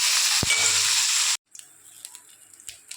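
Fish frying in oil for a raw banana and koi fish dish: a loud, dense sizzle at close range that cuts off abruptly, followed by quieter scattered pops and light clatter.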